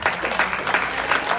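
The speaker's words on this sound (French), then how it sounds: "Acclamez-le chaudement, acclamez-le." A church congregation applauds warmly for visitors at a Sunday worship service, dense steady clapping filling a large room, with voices faintly underneath.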